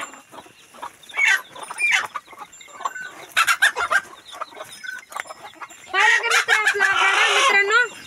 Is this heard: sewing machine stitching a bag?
no